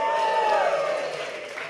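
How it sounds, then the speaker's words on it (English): A comedy show audience at a live gong-show night gives a big round of applause, a dense, steady wash of clapping and cheering that fades slightly toward the end. "Give me a big round of applause for Mark and Jake."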